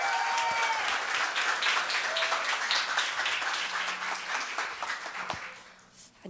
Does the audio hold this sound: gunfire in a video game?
no